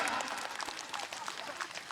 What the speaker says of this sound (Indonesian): Tepuk tangan dong buat warga desa yang luar biasa.